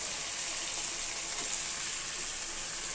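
Egg frying in hot oil in a home kitchen, a steady close sizzle with a soft watery hiss that holds evenly throughout, with no talking.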